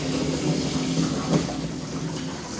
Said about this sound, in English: And now that's feeding into our roof cleaning tank.